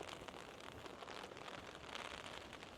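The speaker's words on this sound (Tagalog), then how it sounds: "Hala, lakas ng ulan." Heavy rain pours steadily on a mountain trail in eastern Jeju, South Korea, a dense, continuous hiss with no pauses and no voices.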